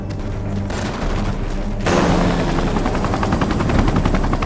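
A helicopter carrying a special forces team in a war film set in Yemen thumps its rotor chop steadily and loudly overhead, growing more intense partway through, with sharp bursts like gunfire mixed into the roar.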